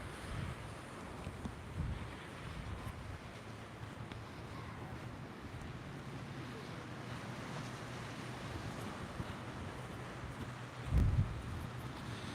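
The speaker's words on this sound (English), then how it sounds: "Let's go check out some of these waves here." Waves washing on the Lake Superior shore at Duluth, Minnesota, with wind buffeting the microphone, a faint continuous rush with a brief louder gust near the end.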